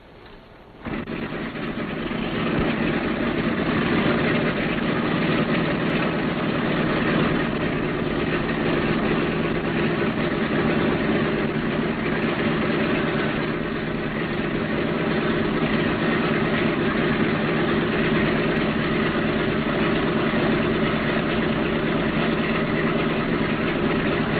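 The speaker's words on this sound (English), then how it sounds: "Throttle your engines all the way back and we'll get ready to taxi." Multi-engine aircraft with its outboard engines idling, throttles pulled fully back while preparing to taxi; a loud, steady engine drone holds nearly unchanged from the first second to the end, with no voices.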